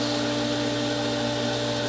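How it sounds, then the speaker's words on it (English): A loud, steady mechanical drone of a swimming pool pump laboring with a strained, humming whine during manual pool vacuuming, continuous and unbroken. "Pump gets angry when I do this."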